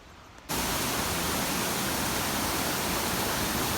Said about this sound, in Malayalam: നല്ല അടിപൊളി വെള്ളച്ചാട്ടമാണ്.